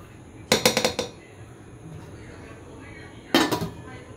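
Cooked rice being turned over in a pot, heard as two short bursts of rapid metallic scraping and clanking from a spoon against the pot, close and sharp, with a quiet pause between.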